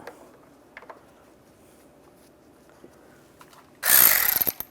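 A ratchet tightening bumper cover bolts on a 2007-2013 Mini Cooper: faint clicks and handling noise, then a loud, close burst of rapid ratcheting near the end.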